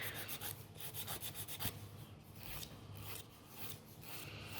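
A 180 grit file shapes a natural fingernail during a gel French manicure. Short rhythmic rasping strokes come in quick bursts, close up and quiet, with brief pauses between.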